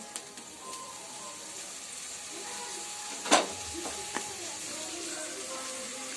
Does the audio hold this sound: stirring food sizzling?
yes